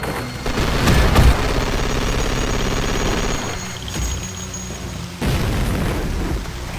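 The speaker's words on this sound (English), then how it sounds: "We have the Gatling cannon. It's basically what you expect. It also comes with grenades as the alternate fire." A Gatling cannon in a video game fires grenades as its alternate fire. The blasts boom loud and dense, a heavy burst near the start, then sustained rumbling fire with another sharp hit later.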